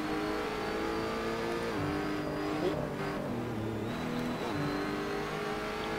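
Race cars in an online racing video game accelerate off the starting grid, with Ferraris near the front. A steady, fairly quiet wash of revving engines rises and shifts in pitch as the pack pulls away, with no voices.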